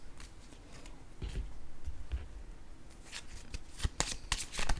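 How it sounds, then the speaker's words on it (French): A deck of tarot cards is shuffled by hand in a quiet room. Soft riffling and slapping bursts come faintly and close, with a few sharper taps as cards drop. "Oups! Attendez, là, 2 cartes qui sont tombées."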